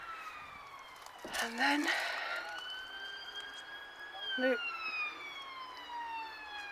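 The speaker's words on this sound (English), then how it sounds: "we've got the hospital sirens" Hospital ambulance sirens wail in the distance from a winter garden, rising and falling as they carry across the air, while a person speaks briefly over them.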